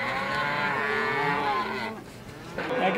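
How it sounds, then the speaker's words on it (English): Cattle on an Ellis County, Texas farm moo in a long, loud, drawn-out call that swells and then fades, followed by a second lowing that rises again near the end. "we run about 100 head of cattle in it"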